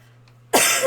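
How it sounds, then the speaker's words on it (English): A single harsh cough bursts out after a quiet moment, loud and close, with a low steady hum underneath. "I am so sorry for my coughing."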